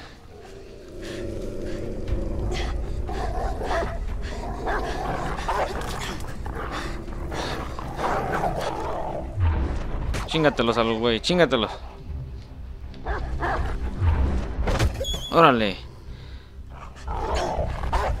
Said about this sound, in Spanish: ya nos echaron los perros del Call of Duty